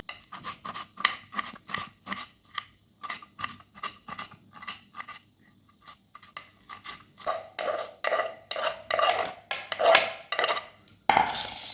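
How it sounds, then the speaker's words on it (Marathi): A knife chops tomatoes finely on a board in a rapid run of crisp, evenly spaced taps. A short pause falls midway, then the chopping resumes with louder, wetter cuts close by. No one speaks. "टोमॅटोला पण आपण एकदम बारीक असं चिरून घेऊया"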